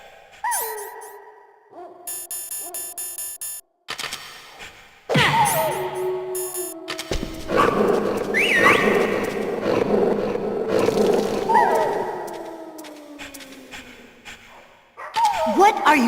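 Dogs barking and growling in the Metal Gear Solid video game, several sharp barks and snarls with howl-like tones, loud and close over tense game sounds and background music.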